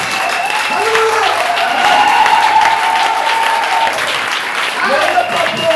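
A church congregation applauds in a dense, steady wash of clapping that holds at an even level throughout, with voices rising over it.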